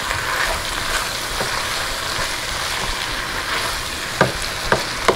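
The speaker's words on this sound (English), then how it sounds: "At this point, it's almost like a stir fry, because I don't want it to overcook the meat and dry it out." Fajita meat sizzles steadily as it is stir-fried and kept moving in a pan, a broad frying hiss with a few sharp scraping clicks near the end, close and alone with no talk.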